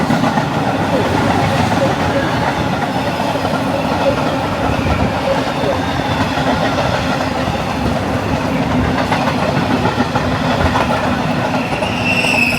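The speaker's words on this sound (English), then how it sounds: "Number 66 on a freight liner." A long Class 66 freight liner train rolls steadily past at close range, a loud continuous rumble of wheels and wagons with rhythmic clickety-clack and faint metallic squeal throughout.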